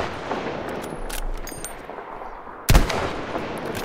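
Sniper rifle fire in Battlefield V, a single loud sharp shot cracking out near the end over steady in-game ambient noise, with faint clinks earlier.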